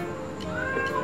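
A single cat meows once, a short rising-then-falling call, fairly quiet and close, heard alone against a faint background during a home barbecue.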